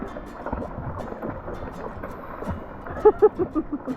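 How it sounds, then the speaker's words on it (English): Low, rumbling drone of a boat engine with wind buffeting the microphone, a few thumping bursts near the end, no clear talk. "That'll be the engine."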